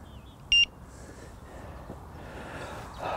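A single short, sharp electronic beep from a carp fishing bite alarm on the bank during spring fishing, loud and close, then quiet outdoor ambience.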